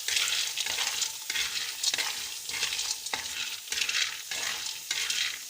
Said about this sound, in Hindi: इसके अंदर ये बादाम डालूँगी और साथ ये पिस्ता डालूँगी और ये काजू भी डालूँगी। इनको अब फ्राई कर लूँगी।